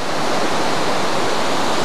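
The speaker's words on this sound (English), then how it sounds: "This waterfall just keeps going on and on and on." Steady, full roar of the waterfall at Aros Park, a continuous broadband rush of falling water heard close and loud without pause, with no voices over it.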